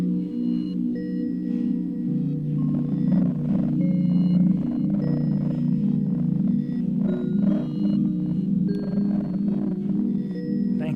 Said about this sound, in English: I've been trying to get more into like very like thin kind of bandpass style distortions